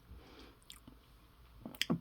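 Someone chews a dense chocolate fudge-like bar from a cold weather field ration, giving soft close-up squishy mouth sounds with a few sharp wet clicks near the end.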